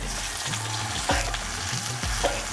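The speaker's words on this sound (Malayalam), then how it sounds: "ആ സെയിം എണ്ണയിലോട്ടാണ് ഉള്ളി ഇട്ടത്" Onions frying in oil in a village kitchen in Bolpur, a loud steady sizzle with a few spoon scrapes and knocks against the pan, no voices.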